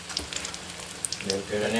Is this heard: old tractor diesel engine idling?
no